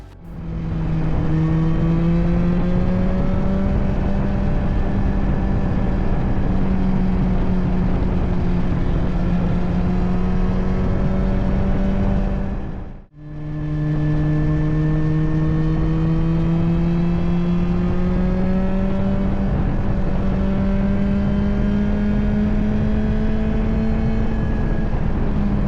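A motorcycle rides steadily with a constant engine drone and broad wind rush, holding one pitch for about thirteen seconds, briefly cutting out, then resuming at the same steady level.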